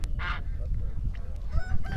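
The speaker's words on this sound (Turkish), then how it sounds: "Güzel bir köy horozu var." Village rooster and chickens at a rural poultry market, with a brief loud honking squawk near the start and fainter clucks and calls later over steady low crowd and market noise.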